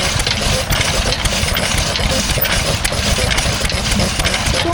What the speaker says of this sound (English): this is a stationary engine that in theory is powering the saw